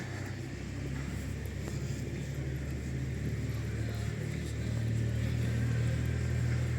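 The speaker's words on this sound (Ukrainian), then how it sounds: "А, з трактор проїде, не лякайтесь." A tractor passes along a street in Truskavets, a resort town in winter, its engine giving a steady, moderately loud low rumble that grows slightly nearer and louder toward the end, with no talk over it.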